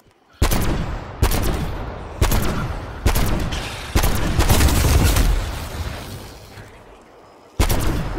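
Gunfire from a first-person shooter game, loud near bursts repeating roughly every second, several sustained volleys blending into a continuous fusillade before a short lull and one final burst.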